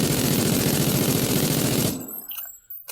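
Rapid automatic rifle fire with a VMC sight attached during a recoil test in Call of Duty: Infinite Warfare, a loud unbroken burst lasting about two seconds before cutting off into a few faint trailing clicks.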